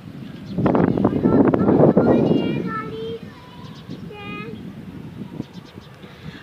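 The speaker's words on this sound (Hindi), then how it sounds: "हर थोड़ी देर के बाद एक झोंका आता है तेज़ हवा का, शदीद तरीन, जो कि पहले से भी ज़्यादा तेज़ होता है" Strong gusts of wind rush past during a heavy storm in Rawalpindi, one loud blustery burst in the first few seconds before easing into a lower roar, with voices talking over it.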